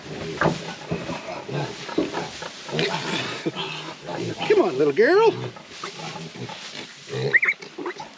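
Pigs on a farm squeal and grunt loudly in close bursts while one is held by the legs, mixed with a person talking and coaxing over the noise.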